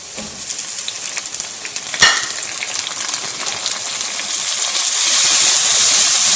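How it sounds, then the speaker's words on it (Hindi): Onions, tomatoes and green capsicum sizzle steadily in a pan, frying loudly and alone with a brief sharp crackle or clatter midway and the hiss swelling louder toward the end. "प्याज लाइट ब्राउन हो गया, अभी हम इसके अंदर शामिल कर देंगे 2 अदद टमाटर और 2 अदद सब्ज मिर्चें।"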